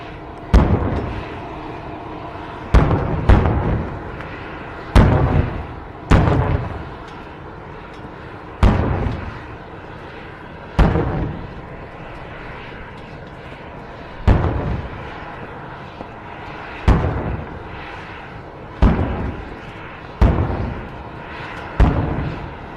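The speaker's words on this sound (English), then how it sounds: "Was that a 21 gun salute?" A 21 gun salute in Saudi Arabia for President Trump's arrival: a long series of distant booming cannon shots, about a dozen heard, with some fired in quick pairs and others spaced several seconds apart.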